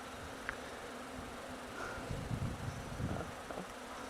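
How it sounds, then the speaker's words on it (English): Bees buzz around old beehives in a greenhouse behind chicken wire, a faint, steady hum with brief louder passes as insects fly near, soft and somewhat distant. "you can see there's a lot of bees buzzing"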